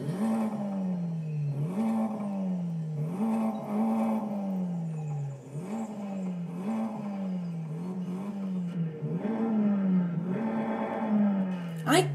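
A Honda Civic four-cylinder engine in Forza Horizon 5 revs hard through repeated gear changes, its pitch climbing and dropping in a sawtooth pattern, loud and up close throughout.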